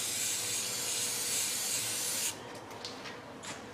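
Fluid Film sprayed from an aerosol can during front brake work on a 2007 Chevy Malibu, a loud close continuous hiss for about two seconds that stops abruptly, followed by faint clicks and handling noise.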